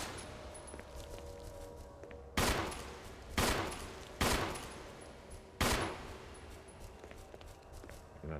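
Four loud, sharp pistol shots ring out in a Resident Evil game, spaced about a second apart with a longer gap before the last, over a quiet background of soft footsteps and ambience.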